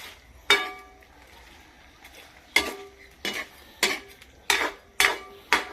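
A metal utensil scraping and clinking against a pan while stirring a shrimp dish, with several distinct strokes that come more quickly toward the end and a faint sizzle underneath.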